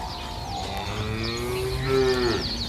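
A cow at a dairy farm moos once, a long low drawn-out call rising slightly, with steady outdoor ambience and bird chirps in the background.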